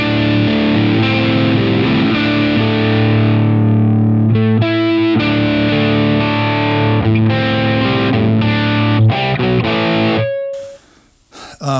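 An electric guitar played through a Line 6 Helix LT with two blended cabinet models, giving a loud distorted tone: sustained chords, then choppy muted stabs and a few held notes, ending abruptly in a brief noisy scrape.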